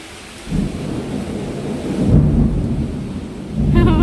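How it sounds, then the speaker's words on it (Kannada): Heavy rainstorm with loud, close thunder: deep rolling rumbles swell twice over a steady roar of pouring rain, with no voices. "ಗುಡುಗು ಮಿಂಚು."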